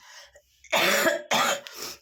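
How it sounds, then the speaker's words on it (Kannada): A person gives two rough, close coughs in quick succession after a short throat sound, with no talking. "ಸ್ವಲ್ಪ ಕೆಮ್ಮು"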